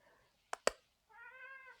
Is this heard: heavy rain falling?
no